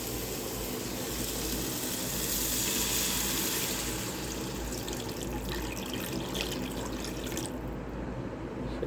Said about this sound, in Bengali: সেটা হলো এখন পানি দিলাম।